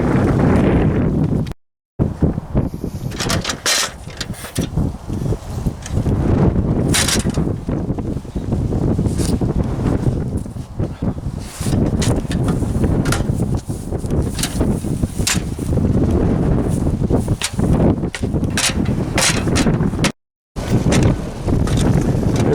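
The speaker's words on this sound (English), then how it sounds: "it's very windy. I don't know where it's blowing, is on the mic" Strong wind buffets the microphone outdoors in an orchard, a constant rumbling roar with gusty bursts and a couple of brief dropouts.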